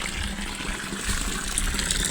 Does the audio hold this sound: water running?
yes